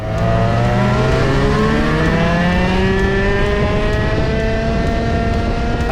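A shifter kart engine screams continuously at high revs on a racing track, rising and falling through gear changes in a loud, close, onboard sound with no talking.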